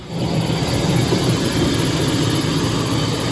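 A truck's 5.3-liter Vortec LS-platform V8 idles nearby just after a rough start on low fuel, a loud, steady mechanical drone with a constant high whine riding above it.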